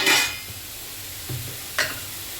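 A utensil scrapes and stirs bottle gourd frying in a pan for a village-style vegetable dish, with a few distinct clanks against the pan over a soft, steady sizzle.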